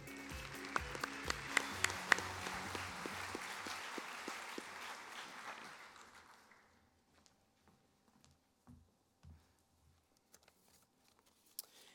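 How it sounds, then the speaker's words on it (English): Audience applause at a Kansas FFA convention session honoring the 2016 Kansas Farm Bureau grant winners: dense clapping for about six seconds that fades out, leaving near silence with a few scattered faint knocks. "Let's give one more round of applause to our 2016 Kansas Farm Bureau grant winners"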